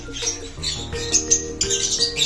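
A caged bird chirps in a series of sharp, bright, close tweets with short pauses between them, over a faint background hum.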